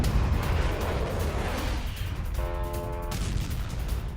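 Bombardment in Ukraine's Donetsk region during a Russian attack, a dense rumbling barrage of blasts and booms that rolls continuously without pause, with a brief tonal hum partway through.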